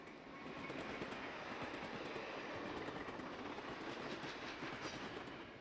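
Fleischmann model rolling stock and model locomotives roll along a snowy layout, giving a steady, faint rush with fast rhythmic clicking of wheels over rail joints.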